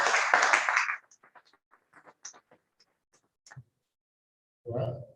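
A seminar audience breaks into a short burst of applause that fades into scattered single claps, and then a voice begins speaking.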